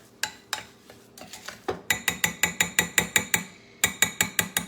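A sugar scrub with ginger and bergamot essential oils being mixed in a bowl, a rapid run of close, sharp scraping clicks in an even rhythm, with brief pauses.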